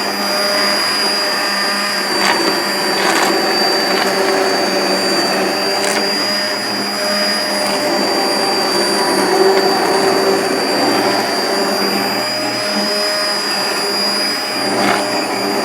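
A blender pureeing cabbage and spinach soup whirs loudly and steadily, a dense grinding roar that holds at a constant level from start to finish.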